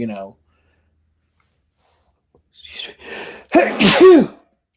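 A single loud, sharp sneeze close by, preceded by a brief voice and a couple of breathy inhales before it.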